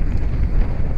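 Heavy, low rumbling wind buffets the microphone aboard a liveaboard sailboat in Mexico, a dense roar with no other sounds standing out.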